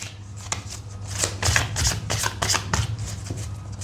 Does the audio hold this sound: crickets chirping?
no